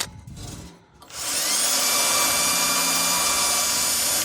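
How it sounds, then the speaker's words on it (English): A power sanding tool works rust off a blower motor shaft, starting with some brief handling noise before a loud, steady high-pitched whine and grinding roar that holds without a break. "I used to sand it down."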